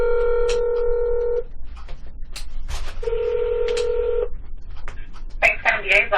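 Touch-tone phone dialing sounds as a call is placed to the Banks County, Georgia district attorney's office: two long steady tones, then a rapid burst of keypad beeps and clicks, with a voice speaking between them.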